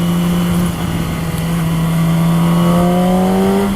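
A motorcycle with a factory titanium exhaust revs up, a loud, close engine drone whose pitch climbs steadily toward the end, with a strong buzzing exhaust note and no talk over it.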